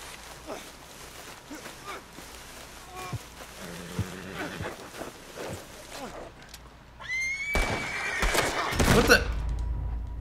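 Horse neighing in the Red Dead Online video game, a whinny rising near the end over game background sounds and some talk, with hoof clip-clop and other effects earlier in the mix.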